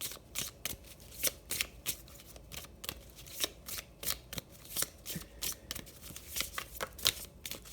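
Tarot cards are shuffled by hand in a run of soft, papery riffles and flicks. The bursts are quick and irregular and sound close and clear, with no talking.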